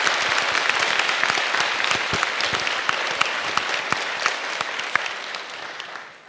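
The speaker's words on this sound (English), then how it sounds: "clap for her, because she's been responsible." An audience claps steadily for about six seconds, a dense, even patter of many hands that fades out at the end, with no voices over it.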